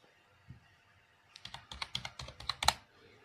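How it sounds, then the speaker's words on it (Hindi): Quick, close clicking of keys on a computer keyboard as a one-time passcode is typed in, a short burst of a dozen or so crisp taps after a quiet start. "हमने OTP टाइप कर दिया है।"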